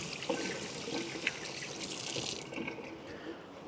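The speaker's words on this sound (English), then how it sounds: "Just let me wash my hands." Hands washed under a running kitchen tap, a steady rush of water splashing in the sink with small irregular splatters, close and moderately loud.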